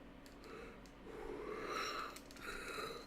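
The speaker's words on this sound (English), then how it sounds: "I'm already yawning" A person yawns, a long drawn-out breathy exhale with a rising and falling vocal tone, quiet and close, with no speech over it.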